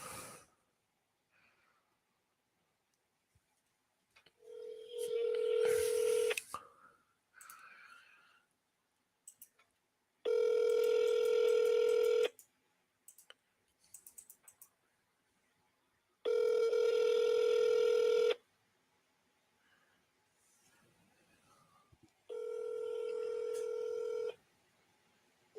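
An outgoing phone call ringing out unanswered: a steady ringback tone sounds in four separate bursts of about two seconds each, split by long quiet gaps with faint rustling and breathing, close and clear.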